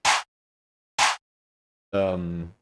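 A drum sample in a beat: two short, bright hits spaced about a second apart, then a longer pitched, voice-like tone that fades out, close and alone.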